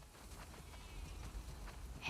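Sheep bleating in The Last of Us Part 2 video game, a brief high cry near the end over a steady low background hum, with no talk.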